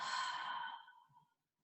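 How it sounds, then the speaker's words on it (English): A single deep exhale during a gentle yoga session, a soft, breathy sigh close to the ear that tapers off into silence within about a second. "Again, taking a deep breath, inhale and exhale."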